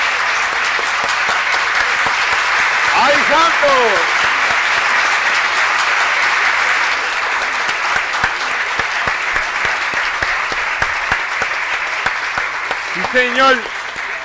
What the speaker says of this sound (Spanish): Así que con este aplauso, señores, para el señor Arturo desde Puerto Rico.